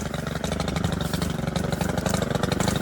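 A Stihl four-stroke whipper snipper fitted with a circular blade runs steadily and loud and close, its engine pulsing in a rapid even rhythm with slight rises in speed.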